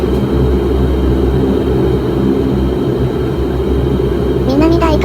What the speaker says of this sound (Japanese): 南大東空港のランウェイ02から離陸します。